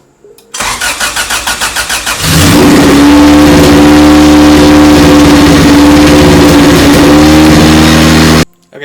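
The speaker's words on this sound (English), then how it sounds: "I would like to fire it up just to see if all the sensors are connected." A freshly installed GSR engine in a race car cranks with a rapid, loud starter rhythm, then catches and settles into a steady, loud, close-up run with a few uneven misfires before cutting off.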